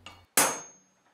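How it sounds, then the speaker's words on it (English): A hammer drives a punch into a handmade machete handle to mark hole positions without power tools, giving one sharp, close metallic strike that rings briefly and fades. "I'll mark my holes, then I'll punch them so the drill won't walk all over the handle"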